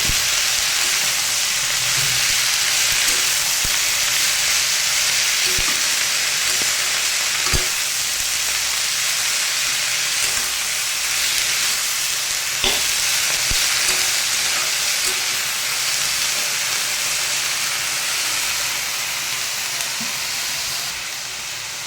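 Ginger and panch phoron sizzle in hot oil in a pan, a loud steady frying hiss close up, broken by occasional soft clicks of stirring.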